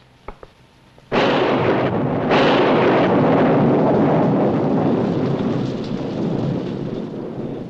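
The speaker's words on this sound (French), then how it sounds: "Avec un orage comme celui-là, la route devient impraticable." Thunderstorm: a sudden loud thunderclap crashes in, followed by a second rumbling burst, then heavy rain pours continuously and fills the remaining time, with no talking.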